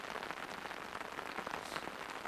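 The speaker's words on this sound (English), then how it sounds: "and then it starts raining" Steady spring rain falling in the Utah mountains, a dense even patter of drops on surfaces that stays close and constant throughout, with no voices.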